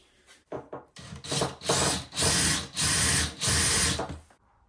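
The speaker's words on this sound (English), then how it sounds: "change it for a smaller drill to get the hole through" A power drill with a small bit grinds through a metal Tama MTH50 tom mount in four or five bursts, loud and close, with short pauses between each push.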